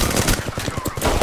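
Rapid video game gunfire, a dense burst of repeated shots rattling in quick succession at close range and loud throughout.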